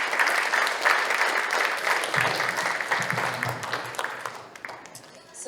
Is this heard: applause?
yes